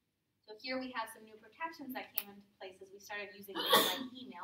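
A sharp sneeze bursts out near the end of a lecture on contract law, breaking through steady talk from a teacher in a classroom.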